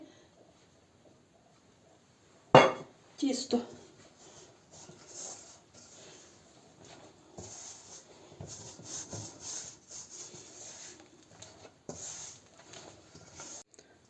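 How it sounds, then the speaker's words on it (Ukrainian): Soft dough made with butter is turned out onto a floured table and kneaded by hand. A sudden thump opens the sound, followed by quiet, intermittent rubbing and pressing close by. "викладаємо тісто на стіл, бо на столі краще підмішуємо"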